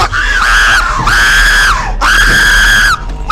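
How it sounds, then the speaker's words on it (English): Loud, sustained screaming from a person playing the horror game Five Nights at Freddy's 2, three long high-pitched shrieks in quick succession with brief breaks between them. "Stop screaming!"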